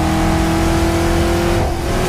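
A steady, droning car engine from a vehicle in Roblox Build a Boat for Treasure, holding a constant low hum with a faint rev lift near the end, loud and continuous with no talking.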